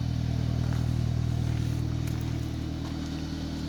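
An inline-four car with its center resonator deleted idles steadily with a low, droning exhaust burble that fades slightly toward the end.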